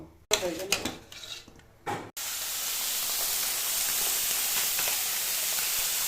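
A short stretch of clinking and a voice, then a loud, steady sizzle of fish frying in hot oil that fills the rest of the clip.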